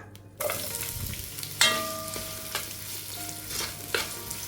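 Two large sliced onions sautéing in a pan toward light golden, a steady close sizzle with scraping stirs and metallic clinks from the utensil, no voices.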